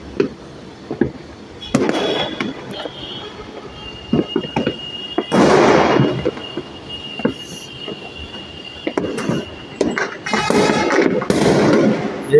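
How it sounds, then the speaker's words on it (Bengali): New Year fireworks in Bangladesh, heard from a high vantage point, burst in repeated booming and crackling volleys over a constant rumbling background, some blasts loud and others more distant. "হ্যাপি নিউ ইয়ারে আতশবাজি ফুটানো দেয়"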